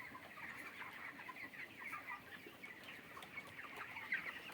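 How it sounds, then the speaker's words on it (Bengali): Twenty-seven-day-old broiler chickens in a poultry shed cluck and chatter continuously, a busy layered flock sound at moderate distance with no talk. "আজ আমার পোলট্রির মুরগির বয়স 27 দিন"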